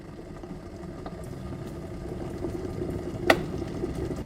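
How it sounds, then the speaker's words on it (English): Water heating in a pot on a home stove for pasta, a low continuous rumbling bubble with a steady hum, moderately quiet, broken by a single sharp clink near the end. "let me boil some water."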